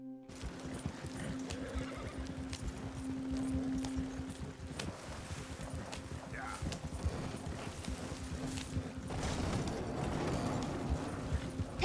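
Horse hooves clip-clopping at a steady run in Red Dead Redemption 2, with a whinny or two, playing continuously at moderate loudness beneath a person talking.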